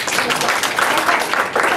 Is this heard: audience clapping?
yes